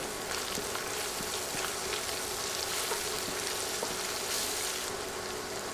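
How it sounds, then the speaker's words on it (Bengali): Chili, coriander and cumin powders fry in a pan for a chickpea curry, a loud, even sizzle throughout with faint ticks of stirring, close by and without talk. "নেড়ে কয়েক সেকেন্ড গুঁড়া মশলাগুলো ভেজে নেব"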